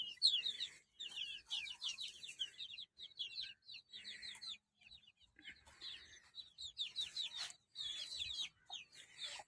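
At a small poultry farm, a hen with five or six chicks clucks softly while the chicks keep up rapid, high peeping in bursts. The sounds are close and fairly quiet, with brief pauses between flurries.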